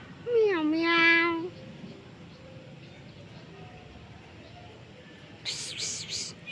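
A cat gives one clear, drawn-out meow close by, followed by quiet and then a brief breathy hiss-like shushing.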